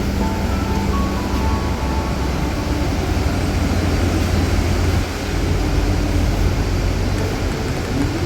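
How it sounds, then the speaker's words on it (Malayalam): Inside the Kochi Water Metro boat while riding, a steady loud engine drone and rumble fills the cabin without a break, with a faint tonal whine riding on top. "ഇതാണ് വാട്ടർ മെട്രോ. ഞങ്ങൾ കയറി"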